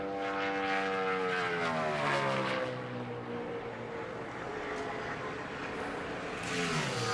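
A NASCAR race car on a qualifying lap roars past, its engine pitch rising and then falling as it goes by, loud and continuous, with a second car approaching at the end.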